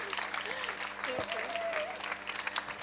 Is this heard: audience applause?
yes